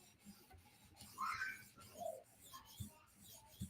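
A knife drawn in long strokes across a sharpening stone while the burr is worked off, giving soft, quiet rasping scrapes with small clicks between them.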